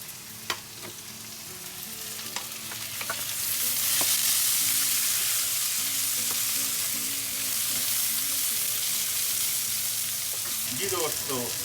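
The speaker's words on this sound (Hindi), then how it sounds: "फिर उसी ऑयल में आपने एक बड़ा प्याज एक अदद और ये छोटी शिमले की मिर्चें इनको हल्का सा फ्राई करना है आपने" Sliced large onion and small red capsicums lightly fry in the oil left from frying meat for bhindi gosht, a continuous hissing sizzle that swells midway, with occasional knocks from stirring and no speech.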